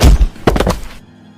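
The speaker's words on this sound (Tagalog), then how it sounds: "biglang may kung anong mabigat na bagay ang naglagabog sa bubungan ng kanilang bahay" A heavy object thuds onto a house roof: a loud, deep impact followed by a few quick rumbling knocks, then sudden silence.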